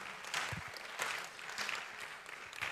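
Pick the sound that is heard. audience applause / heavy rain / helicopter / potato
audience applause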